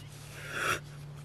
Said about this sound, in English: I apologize for the yawn there